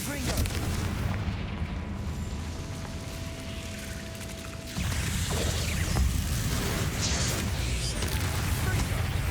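Confringo fire spell in the Hogwarts Legacy video game, a dense rumbling blast layered over continuous booming combat noise and game effects that grows louder midway and stays loud throughout.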